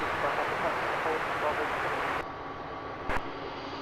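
An easyJet Airbus A319 airliner at Luton Airport roars with steady broadband jet engine noise that drops sharply partway through, followed by a brief loud burst.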